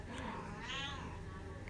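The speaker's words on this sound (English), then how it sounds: "Even the cat is hungry." A hungry cat meows once, a drawn-out close cry over a steady low background hum, with no talk.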